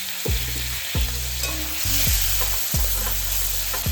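Onions, tomato and green chilli with a pinch of salt sizzle steadily in a pan on a gas stove, a loud continuous frying hiss broken by regular low thumps every second or so.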